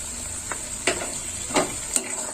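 Fennel paste is stirred into sizzling masala for an egg masala curry. Four distinct spoon scrapes and clinks cut through a constant, close frying hiss.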